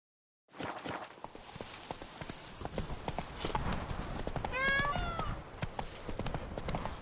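Horse hooves clip-clop steadily at a walk in The Witcher 3, a continuous close rhythmic patter with a brief whinny midway, and no talk over it.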